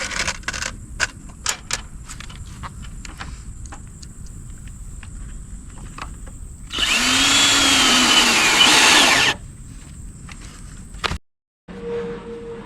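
A power drill drives wood screws while a trailer is built, with scattered taps and clicks of handling before one sustained whirring run of a few seconds and a short final burst, close by.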